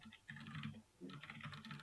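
Soft typing on a computer keyboard during English typing practice, with two quick bursts of clattering keystrokes separated by a brief pause.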